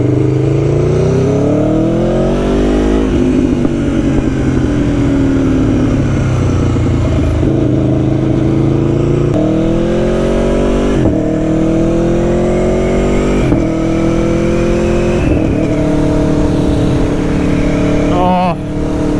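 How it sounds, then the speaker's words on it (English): Aprilia Tuono V4 1100 Factory motorcycle engine revving hard through quickshifter gear changes, with rising pitch sweeps broken by brief shift cuts, loud and close throughout. "the quick shift to the up and down blipper on this bike is something else"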